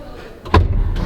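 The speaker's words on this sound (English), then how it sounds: "you just have this leather strap here that you pull to shut the door." A carbon fiber door on a matte white Lamborghini Aventador SVJ is pulled shut by its leather strap, one short solid thump close by.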